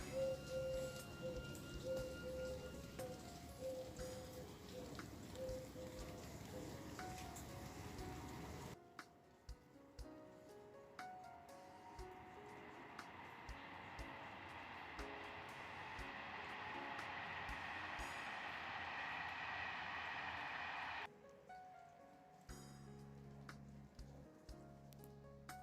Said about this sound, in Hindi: बारिश की रिमझिम जारी है।